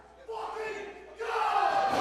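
Crowd at a small wrestling show surging into a loud roar in two quick swells, packed voices yelling together close by and building toward a near pin.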